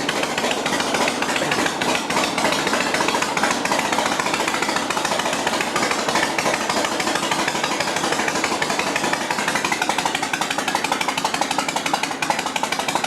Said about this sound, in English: for a 1971 XLCH, this is one sweet running machine.